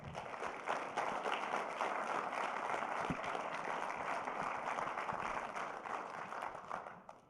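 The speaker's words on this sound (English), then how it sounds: "let's give a round of applause to Jude" Audience members give a sustained round of applause for Jude at an Eagle Scout Court of Honor, a steady wash of clapping that fades out at the end.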